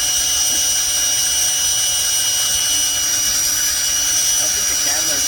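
A power drill bores through a 12-foot push pole held in a vise, a loud, steady high-pitched whine running unbroken from start to finish.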